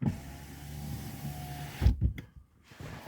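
The window regulator motor of a Tesla Model 3 door hums steadily for almost two seconds, then stops with a couple of soft thumps, quiet and close in a calm setting.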